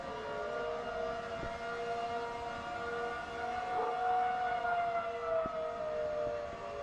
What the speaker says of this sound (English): you're getting like a couple sirens that are rotating around, little Doppler effect action, creating different pitches and noises